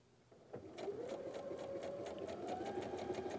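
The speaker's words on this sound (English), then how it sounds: "I'm gonna sew on the other lines here" Sewing machine stitching quilt block seams for a pinwheel star block, starting with a thump and then running as a steady, close, rhythmic hum of needle strokes that speeds up slightly, with no talking.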